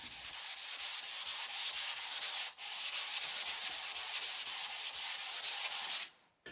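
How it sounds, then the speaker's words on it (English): Wood is hand sanded with 220 grit sandpaper in rapid back-and-forth strokes, a close, bright scratchy rasp that continues steadily with one brief pause and stops at the end. "I hand sanded it again with 220"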